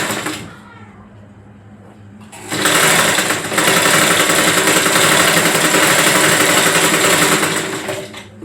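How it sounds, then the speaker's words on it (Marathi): Close and loud, a sewing machine stitches a blouse seam, starting after a brief quieter moment and then running continuously at a steady fast pace for several seconds. "नाही इथे शिलाई मारून घ्यायची."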